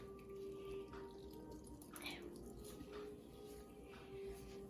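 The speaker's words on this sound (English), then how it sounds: "Drain your milk, squeeze it out." Soaked bread wrung out by hand over a bowl for meatloaf, wet squishing and milk dripping in short bursts, close and fairly quiet, with no talking.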